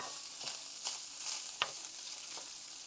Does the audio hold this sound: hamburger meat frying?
yes